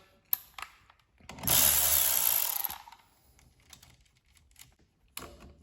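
A 10mm socket loosens the positive battery terminal on a Honda EM6500 generator, giving a short burst of rapid ratcheting in the middle, framed by scattered metallic clicks and knocks, close and fairly quiet.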